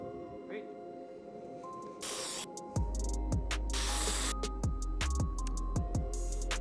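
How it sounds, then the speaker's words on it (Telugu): Dual action deodorant body spray hisses in two strong bursts, a short one followed by a longer one, heard up close over a steady, thumping electronic music beat. "సో ఇట్ జస్ట్ స్ప్రే చేసుకొని లెట్ అస్ గో"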